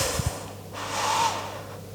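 Soft, close breathing from someone holding a plank in a Pilates core workout, one steady audible exhale across a quiet moment.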